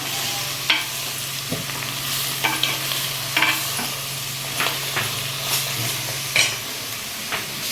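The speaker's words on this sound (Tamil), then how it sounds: "வெங்காயமும் பாவக்காவும் எண்ணெயிலே கொஞ்சம் நேரம் வதங்க விடணும்" Onions and bitter gourd fry in hot oil with a steady sizzle and hiss, broken by intermittent stirring scrapes and clatters throughout, close and fairly loud, with no talking.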